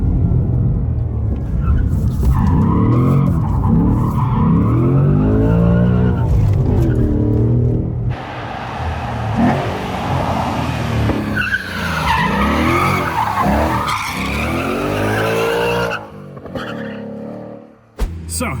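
Ford Mustang Dark Horse sliding with its factory drift handbrake on a downhill road, tires skidding and squealing in long loud sweeps over a steady engine rumble, with a brief quieter gap near the end.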